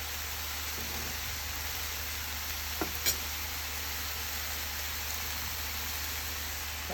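Carrot halwa cooks in ghee in a pan with a continuous, even sizzle, a steady frying hiss and a couple of faint clinks partway through.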